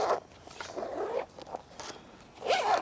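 A lubricated zipper on bike gear is pulled open and closed several times in quick close rasping strokes, with short pauses between them and no talk.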